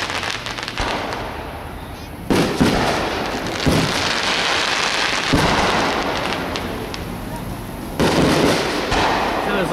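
Fireworks burst outdoors at a town beef roast celebration in Harpersfield, Ohio: loud, sharp booms at irregular intervals over a continuous crackling rumble, with people talking nearby.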